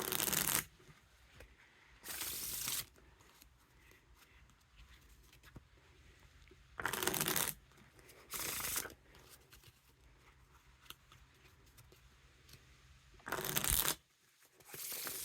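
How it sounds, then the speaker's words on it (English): Stay Alive playing cards are riffle shuffled several times, each a short loud whirring burst of flicking cards, separated by quiet pauses. "Now for the Riffle Shuffle or Bridge Shuffle."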